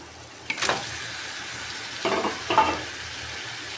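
Marinated fish pieces are gently stirred in a simmering Andhra-style masala, with a soft continuous bubbling and sizzle broken by three brief, louder scraping stirs.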